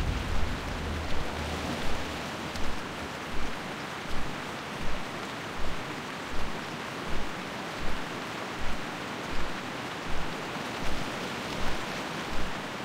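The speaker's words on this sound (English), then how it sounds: "It's raining pretty hard here in Stranglethorn Vale." Heavy rain pours steadily in the jungle zone of Stranglethorn Vale in World of Warcraft Classic, a dense continuous hiss with a soft, regular low thump recurring about every second underneath.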